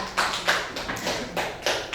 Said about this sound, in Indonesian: kita kasih tepuk tangan buat temennya yang buat demonstrasi tadi